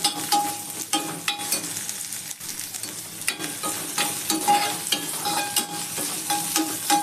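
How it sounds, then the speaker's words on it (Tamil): Onions fry noisily in a pan, a steady close sizzle with crackles and occasional stirring scrapes, no voices. "வெங்காயம் ஆட் பண்ணிட்டு நல்லா வதக்கிக்கோங்க"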